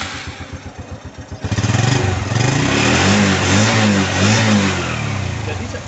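A motorcycle fitted with a fingertip touch-sensor security device: the electric starter cranks in rapid pulses for about a second, then the engine catches and runs loudly up close with a steady, throbbing idle and slight revving.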